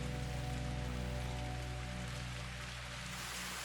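Steady rain at night in the Zenless Zone Zero video game, a dense even patter of drops on surfaces over a low sustained tonal hum, continuous and moderately loud.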